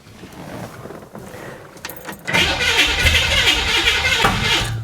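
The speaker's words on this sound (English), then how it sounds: "Right now, I'd like to go ahead and crank it up real quick without trying to start it." Engine of a flood-damaged 1966 Chevy Impala SS with a freshly replaced fuel system being cranked over without firing; a brief jangle and click precede a loud, steady starter churn that fills the second half.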